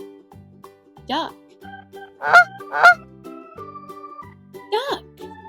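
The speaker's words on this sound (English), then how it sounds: "duck," A duck quacks several times in nasal, honking bursts, two close together in the middle and another near the end, over soft background music.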